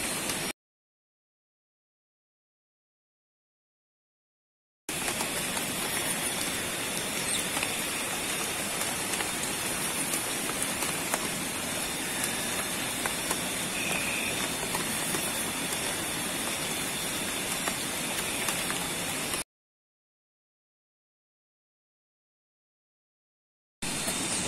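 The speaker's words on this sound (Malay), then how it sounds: "hujan masih lebat" Heavy rain pouring down at night, a dense, loud, unbroken roar of water on surfaces, with stretches of silence before and after.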